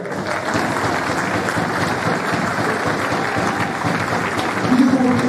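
Indoor audience applauding at a French professional men's table tennis match, a sustained dense round of clapping that holds steady and swells slightly near the end.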